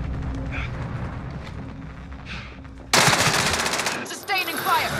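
Rapid bursts of automatic gunfire in Call of Duty Warzone erupt loudly after a quieter stretch of game sounds, with a voice calling out just before the shooting starts.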